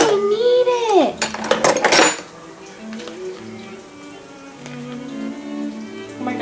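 A stuck garlic jar lid being twisted and forced open in a home kitchen: a voice strains and whines at first, then a short burst of sharp clinks and rattles, followed by quieter handling noises.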